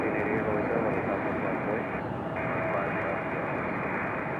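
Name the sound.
JetBlue jet airliner on its takeoff roll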